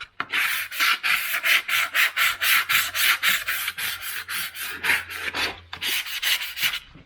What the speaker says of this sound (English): I'm going to sand it along the grain.